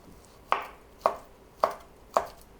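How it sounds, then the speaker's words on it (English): Four crisp knife chops through young potatoes on a cutting board, evenly spaced about half a second apart, close and clear with nothing else heard. "First we'll chop all the potatoes"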